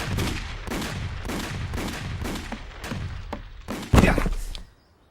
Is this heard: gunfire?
yes